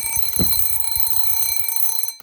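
A Westclox Baby Ben wind-up alarm clock rings its bell in a steady, loud, rapid metallic clatter heard up close, continuing unbroken before cutting off abruptly at the end.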